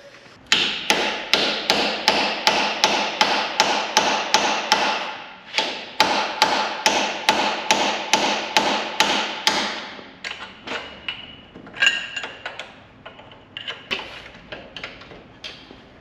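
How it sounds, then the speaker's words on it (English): Rapid, steady hammer blows ring out on a chisel driven into a seized nut on a Land Rover Discovery, striking in quick regular runs that pause briefly and then give way to slower, scattered taps near the end. "What he did was drilled in there and then used a chisel so he could split it"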